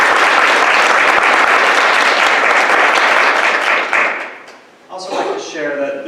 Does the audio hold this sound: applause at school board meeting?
yes